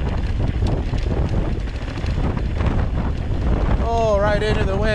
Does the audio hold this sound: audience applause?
no